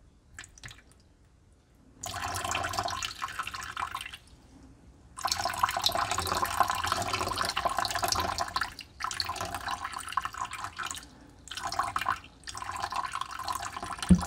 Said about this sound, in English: what is this water that's dripping?